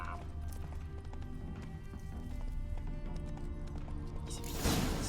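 Horse hooves clip-clop steadily in The Witcher 3 video game, a lame horse whose shoe has come loose, layered over a continuous game soundscape with a louder rustling burst near the end.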